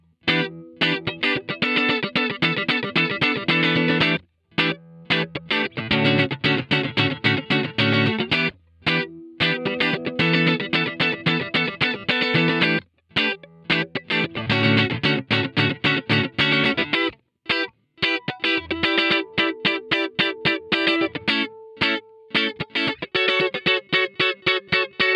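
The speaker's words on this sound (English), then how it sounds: "a free profile called the 65 Twin Verb Funk Profile. And it sounds like this." Funk electric guitar played through a Kemper 65 Twin Verb Funk Profile, a continuous stream of crisp, percussive chords and single-note lines with short pauses, loud and close, with no talking.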